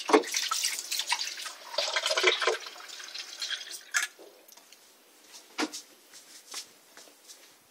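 Tap water running into a glass, a brief irregular splashing rush at first, then thinning into scattered drips and trickles as it tails off.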